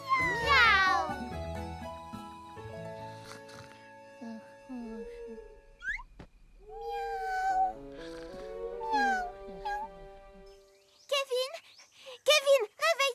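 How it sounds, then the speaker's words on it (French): A cat meows several times among soft household sounds, followed by a burst of high, quick squeaky mews near the end. "Miaou."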